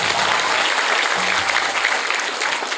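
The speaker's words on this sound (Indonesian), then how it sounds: "kasih tepuk tangan untuk Bapak kita" Dense, steady applause fills a hall at a dormitory inauguration for a boarding school, loud continuous clapping from a large audience across the whole stretch, with a faint low hum underneath.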